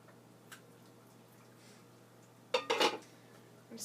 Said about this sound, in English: I'm gonna scoop some up.